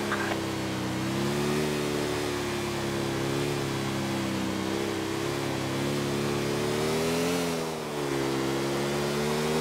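A motorbike engine in Grand Theft Auto IV drones steadily and close throughout, its pitch rising and falling slightly with the throttle, with a brief dip near the end.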